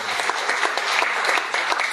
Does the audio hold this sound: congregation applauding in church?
yes